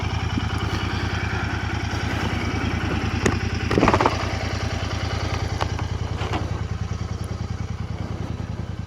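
A Royal Enfield motorcycle idles while stopped, its engine thumping in a steady, even rhythm close by, with a brief louder rev near the middle.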